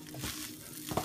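Rice stirred in a hot frying pan, a soft scraping and shuffling with a light sizzle underneath, steady and close with a brief louder scrape near the end.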